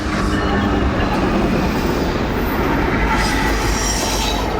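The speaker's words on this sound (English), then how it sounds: "At straight up noon, it was NS 153, mixed freight with a whole catalog of locomotive models." Norfolk Southern NS 153, a mixed freight train, rolls past close by with a loud, continuous roar of wheels on rail, steady clatter and some squealing throughout.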